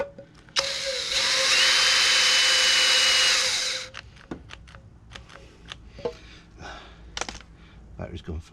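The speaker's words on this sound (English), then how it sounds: "it's not the sharpest of drill bits, but you're pushing on it and it had gone through" A power drill with a dull bit whines loudly and steadily for about three seconds drilling through metal, then cuts out as the battery dies, followed by scattered clicks, knocks and handling noises.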